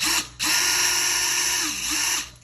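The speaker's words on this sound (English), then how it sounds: "I want to put it in reverse. We're just going to go ahead and take these screws out." A cordless power drill runs in reverse, backing screws out of a Schlage keypad deadbolt lock, with a close, high whirring motor whine in two sustained bursts and a brief pause between them.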